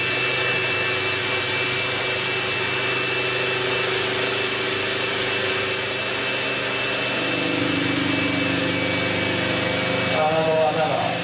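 A drill under master-slave control rotates with a loud, continuous motor whine and mechanical grinding that holds steady throughout, with a voice talking over it near the end.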